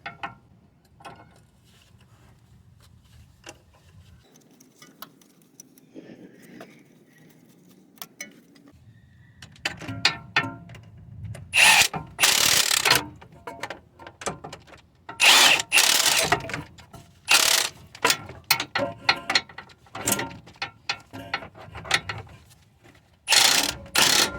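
Ratcheting wrench loosening a 17mm engine mount bolt on a Toyota Sienna 3.3, quiet at first, then bursts of sharp metallic clicks and ratchet pawl rattles in rapid repeated strokes, close and fairly loud.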